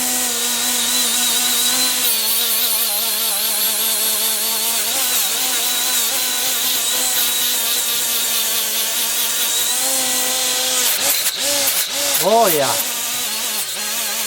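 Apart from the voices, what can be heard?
Milwaukee die grinder running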